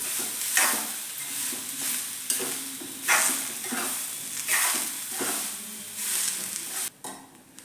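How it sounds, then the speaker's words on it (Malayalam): Grated coconut and curry leaves roasting in a pan for Kerala kootu curry, a steady sizzle with repeated scraping strokes as the mix is stirred, ending in a brief clatter. "ഇത് ഇതിലേക്ക് ഇട്ട് കൊടുക്കാം. നന്നായി മൂപ്പിച്ചെടുക്കണം. നമുക്ക് കുറച്ച് കറിവേപ്പിലയും കൂടെ ചേർത്ത് കൊടുക്കാം. നന്നായി ഇളക്കി കൊടുക്കുക."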